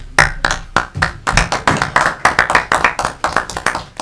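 An audience at a township council meeting claps for a guest. There is a burst of distinct, fairly close handclaps that thins into a sparser, uneven patter over about four seconds.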